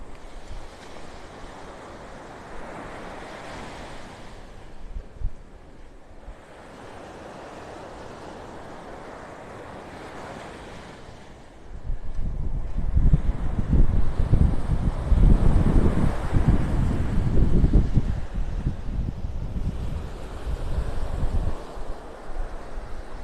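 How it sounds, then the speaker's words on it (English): Strong wind gusts roar across a beach on the Gulf coast of North Naples, Florida, with surf rushing underneath; the blowing is steady and moderate at first, then swells into loud, buffeting gusts against the microphone. "Boy, is that wind picking up."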